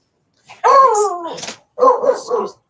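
Dogs bark and yelp in two close, loud bursts, with a longer whining bark followed by a quick cluster of sharper yips, in a home during a parcel-packing session.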